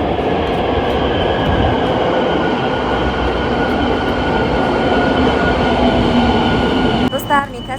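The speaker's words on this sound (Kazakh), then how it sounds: "Пойыз келе жатыр." Almaty metro train pulling into an underground station, a loud sustained rumble and rush of wheels and wind filling the platform, with brief squeals and a short burst of voices near the end.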